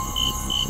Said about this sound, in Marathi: रातकिड्यांचा किर आवाज